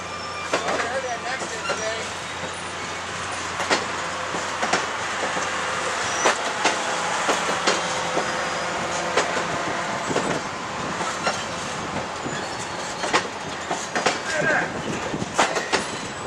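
A circus train rolls slowly past at close range with steady rail clatter and wheel noise through the whole stretch, while people talk nearby over it.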